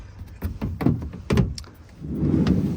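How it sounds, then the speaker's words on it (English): The side door of a VW Caddy van being unlatched and opened, with a few close mechanical clunks and clicks followed by a rolling slide of the door, loud and near. "We shall open the door."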